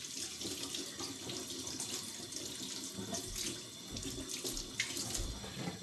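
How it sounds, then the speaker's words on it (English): Tap water runs steadily from a kitchen faucet into a sink, a constant close splashing hiss with no speech, left flowing so the water turns cool for mixing puff pastry dough. "letting your water run in your faucet for about a minute until it gets cool."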